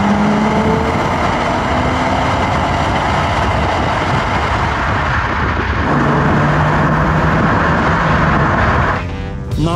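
Engine of a Jeep WK running steadily while driving at highway speed after a Seafoam carbon cleaning, a continuous loud drone with road and wind noise throughout, no talking.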